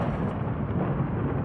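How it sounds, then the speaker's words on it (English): Deep booming thunder rolls steadily and loudly, a continuous low rumble that fills the whole stretch without any voices. "we hear the booming"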